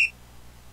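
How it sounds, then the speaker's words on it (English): A robot in the AutoNouts video game gives one short, high electronic beep at the very start, followed by a faint low background hum. "He went like beep boop."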